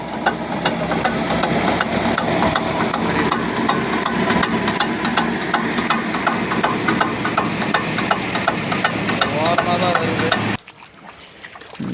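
Knocking rattle from the cover of a farm tractor working in a village field, a steady fast clatter over the running engine that stops abruptly near the end.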